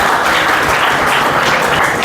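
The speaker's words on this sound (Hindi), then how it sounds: "जोरदार तालियों से स्वागत करेंगे।" Loud, dense applause from a conference audience welcoming guests at an education event, continuous clapping filling the whole moment without a break.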